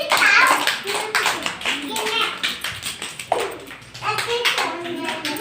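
Children clapping together in a classroom memory game, a quick run of sharp, close claps mixed with young voices talking over them.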